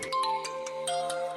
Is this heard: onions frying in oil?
no